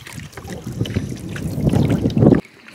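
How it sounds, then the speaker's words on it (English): Strong wind buffets the microphone on a river canoe trip on the French River, a loud, gusty low roar with water sloshing, rising briefly before cutting off. "Wind against us."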